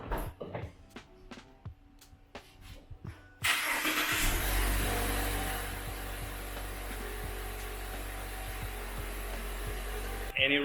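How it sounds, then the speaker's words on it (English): A Mazda 3 engine cranks and starts after a few clicks and taps, then settles into a steady close idle hum that runs on loudly with no talking. "The engine is running."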